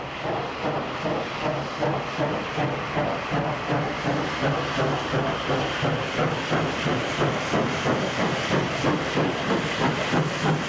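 A steam locomotive pulls away from Paddington station, steady rhythmic chuffs and hissing steam beating evenly and loudly, close by and without speech.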